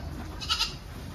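A goat gives a single short bleat, moderately close, over a low indoor background hum.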